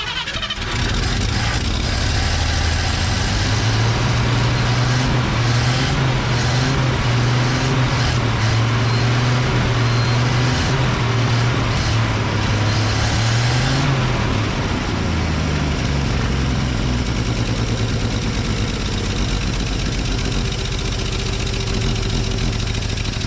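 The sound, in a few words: flatbed truck engine idling roughly, carburetor issue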